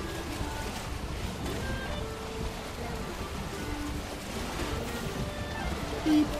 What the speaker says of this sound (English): Splash, splash, splash goes the water.